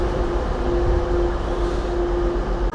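A Northern service train pulling out of York station bound for Bridlington, a steady loud rumble of engine and wheels with a sustained tonal drone close by, fading briefly at the very end.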